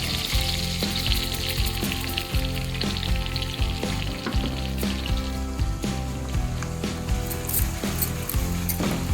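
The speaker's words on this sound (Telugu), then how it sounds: "ఒకసారి ఆయిల్లో మంచిగా లైట్ బ్రౌన్ కలర్ వచ్చే వరకు మంచిగా ఫ్రై చేసుకోవాలి" Green chillies and curry leaves frying in oil in a pan until light brown, with a loud, continuous, dense crackling sizzle that runs without a break and no voices.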